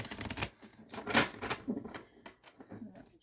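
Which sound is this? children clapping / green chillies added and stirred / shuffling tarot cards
shuffling tarot cards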